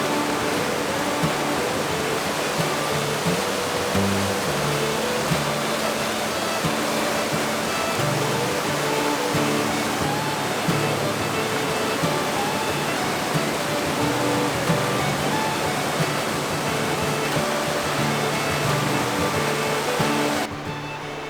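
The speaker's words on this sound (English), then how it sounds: "I am by a very loud creek, spring runoff." A loud creek swollen with spring runoff rushes in a dense, unbroken roar of water, close by and steady, with no voices.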